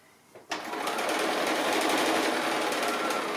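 Sewing machine stitching a quarter-inch seam on a fabric gift bag: a brief click, then a close, fast, steady mechanical whir that runs evenly to the end.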